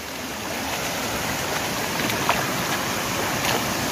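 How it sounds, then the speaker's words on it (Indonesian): A small waterfall in Aceh, Indonesia pours with a continuous, even rush of water, close by and steady throughout. "Oh, ada air terjun kayaknya nih."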